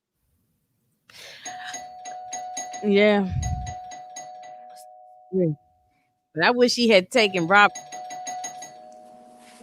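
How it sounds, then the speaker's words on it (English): A doorbell chimes twice, loud and close, each ring a sustained tone with lingering ringing, while people talk between and over the rings. "Why you ringing my bell like that?"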